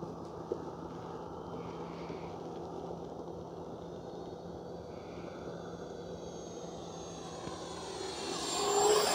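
An Arrows Viper 50mm RC electric ducted-fan jet flying at half throttle makes a steady distant whooshing whine that swells louder near the end as it passes closer.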